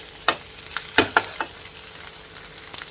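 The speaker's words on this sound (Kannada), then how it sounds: "ಇದನ್ನು ಚೆನ್ನಾಗಿ ಫ್ರೈ ಮಾಡಿಕೊಳ್ಬೇಕು." Curry leaves and green chillies frying in hot oil in a pan: a steady crackling sizzle punctuated by a few sharp stirring clicks and taps, close and fairly loud, with no voices.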